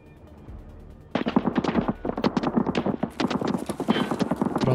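Rapid bursts of machine gun fire in the shooter game Escape from Tarkov, loud and close, starting after a quiet second and continuing in dense rattling volleys with brief gaps.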